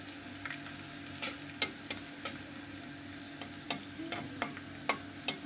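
Hilsa fish with eggplant fries quietly in a pan, a soft low sizzle under regular light taps and scrapes of a utensil, spaced at about one per half second.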